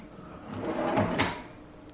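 A drawer in a homemade Tacoma truck rear seat delete build slides along its track in one smooth, close, moderately loud stroke lasting under two seconds.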